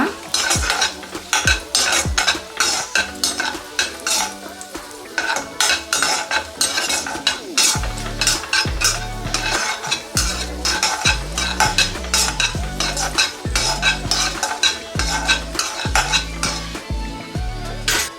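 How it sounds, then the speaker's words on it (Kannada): Cloves and other whole spices roasting in ghee over a low flame for rava kesaribath, with a utensil repeatedly scraping and clattering against the pan over a soft sizzle in a loud, busy stir. "ಸೊ ಇದನ್ನೆಲ್ಲ ಇದೇ ರೀತಿ ಲೋ ಫ್ಲೇಮಲ್ಲೇ ತುಪ್ಪದಲ್ಲೇ ಹುರ್ಕೊಳ್ಳೋಣ"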